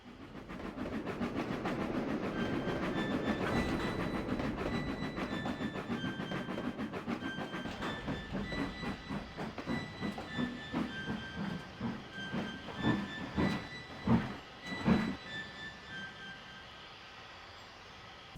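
A train running on rails on Sodor Mainland rolls along with steady hiss and rumble that turns into a slowing clickety-clack of distinct knocks, loud and close, with no talk.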